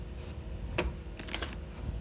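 A few sharp computer keyboard key presses, quiet and close, with a brief cluster of clicks after a single tap in an otherwise quiet room.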